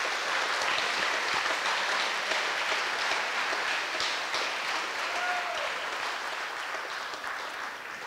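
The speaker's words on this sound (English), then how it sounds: "Would you please give a round of applause to the Viking Band Boosters?" Audience applause at a school winter concert, steady and dense clapping from a large crowd that holds at full strength for about eight seconds before easing slightly.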